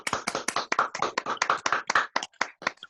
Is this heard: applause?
yes